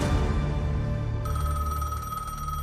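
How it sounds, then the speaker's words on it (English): A telephone bell rings loudly and alone, with a bright, sustained ringing tone that carries on steadily after a brief switch in timbre partway through. "Myra gets a phone call that will ultimately destroy the relationship."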